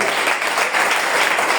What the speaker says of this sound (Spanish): Si tú lo crees, aplaude al Señor.